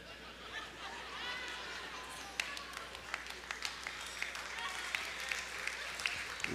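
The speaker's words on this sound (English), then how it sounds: "are you clapping?" Scattered clapping from a church congregation during a sermon, moderately quiet and building slightly, with sharp individual claps over a murmur of voices and chatter.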